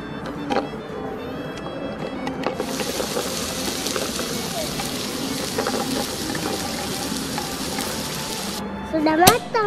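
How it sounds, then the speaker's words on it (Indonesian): Potatoes frying in a pan give a steady hissing sizzle that grows louder partway through, with stirring clinks and a voice talking at times over the sizzle. "Sekarang masak kentang."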